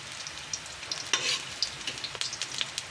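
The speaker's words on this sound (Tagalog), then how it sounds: "Yes, laya muna para mapritong masyado yung laya." Ginger sizzles and crackles in a frying pan, a soft continuous hiss broken by small pops and stirring scrapes, close by and fairly quiet.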